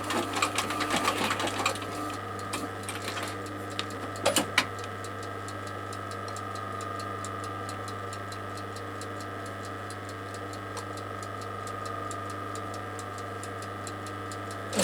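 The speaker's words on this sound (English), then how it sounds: "What I'm going to do is I'm going to back stitch that a bit." A sewing machine back stitches a leather knife sheath, running with a steady rapid mechanical clatter and hum throughout, busier bursts early on and a constant drone beneath.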